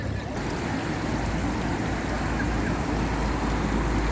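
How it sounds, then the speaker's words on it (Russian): A small fountain in Mayfair, London gives off a steady, hissing rush of running water, continuous and fairly loud, with low city rumble underneath. "вот такой фонтанчик"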